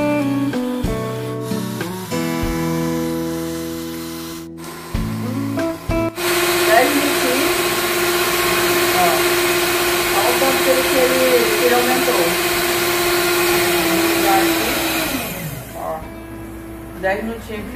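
An electric mixer beats homemade pineapple ice cream mixture at maximum speed, a loud, steady whirring whine that builds after a few seconds of clattering and holds close and continuous before easing off.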